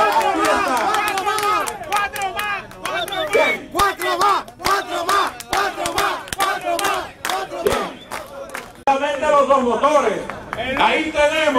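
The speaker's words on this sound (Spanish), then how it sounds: "¡Un aplauso a nuestro senador!" A crowd at a Christmas motorcycle rally for a senator cheers and shouts in rhythmic chants, with scattered clapping. Loud bursts of voices rise and fall throughout.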